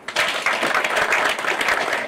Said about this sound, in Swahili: Mujipigie makofi.